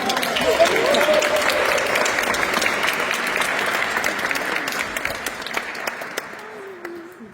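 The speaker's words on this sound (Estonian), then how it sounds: "Anname talle aplausi, kiidame teda." Congregation at Olivet church in Tallinn applauds in praise during worship, a full, sustained wash of clapping with a voice briefly heard early on, gradually thinning toward the end.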